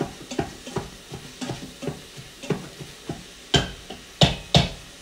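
Browned meat and mushrooms sizzling in a quick cooker pot as a spoon stirs and scrapes in rhythmic strokes, a soft fry hiss beneath louder clacks toward the end, nearby and without talking.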